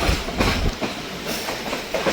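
A train rumbles past close by at a railway station near Anuradhapura, Sri Lanka, with rhythmic clacking of wheels over the rails, loud and continuous.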